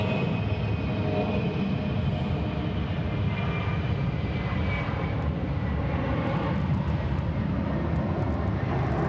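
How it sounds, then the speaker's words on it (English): A Boeing 757 arriving from LAX at hazy Atlanta Hartsfield-Jackson airport, heard as a steady, broad jet roar that holds throughout without a break and stays fairly distant. "757 coming in from LAX. It'll be our next flight in."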